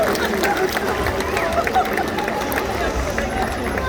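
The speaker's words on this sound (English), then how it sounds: "Let's give her a round of applause." Spectators at a SeaWorld San Diego killer whale show applaud in a steady, dense wash of clapping mixed with crowd chatter, moderately loud throughout.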